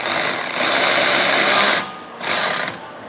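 An impact gun driving in a rear brake bolt on a 2015 Honda Accord, giving a loud, close buzzing whir that runs for over a second, cuts off, then returns in a shorter burst.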